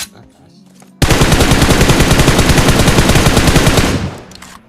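Sustained automatic gunfire in PUBG Mobile, a dense rapid burst of shots lasting about three seconds, loud and close, preceded by quiet game ambience and trailing off into faint background sound.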